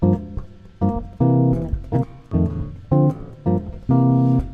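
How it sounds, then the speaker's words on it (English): A standard jazz blues turnaround in F played on bass, with short punchy stabs and held chords in a swinging, syncopated rhythm, close and clear without talking. "a kind of standard jazz blues turnaround in F would sound something like this"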